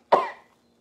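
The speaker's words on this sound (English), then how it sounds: "Let me give a good cough here." A single sharp cough, close and loud, ending quickly in silence.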